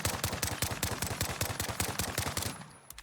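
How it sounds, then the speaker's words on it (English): Rapid-fire automatic gunshots from the Modern Warfare video game with a pro aim mod, a fast, steady burst of loud cracks lasting about two and a half seconds before stopping abruptly. "Now if we hit the quick toggle, rapid fire turns on."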